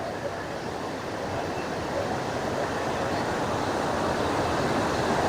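Steady, dense broadband rush of pouring water at a scenic spot in Wayanad, continuous and fairly loud throughout without any break, sounding like a nearby cascade or waterfall with no voices over it.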